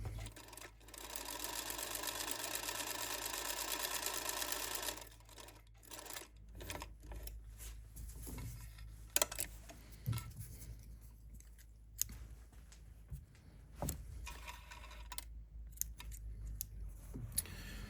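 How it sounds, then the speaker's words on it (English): A Singer Featherweight sewing machine stitches a test seam, its steady mechanical whir running loud for about five seconds, followed by quieter clicks, taps and handling noises as the fabric is adjusted. "let's test this machine out"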